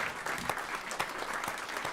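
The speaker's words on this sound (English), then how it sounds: "We made this man clap." Audience clapping at a live radio show with a band, a moderate crowd patter that holds steady throughout, heard somewhat distant and soft, with no voices over it.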